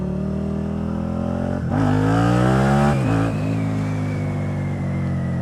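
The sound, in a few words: Suzuki Gladius SFV650 V-twin motorcycle accelerating in first gear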